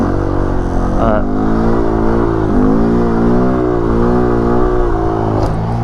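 A car engine on a stunt lot during foot brake practice, held at a steady rev with the pitch swaying up and down slightly, loud and close, with a voice talking over it.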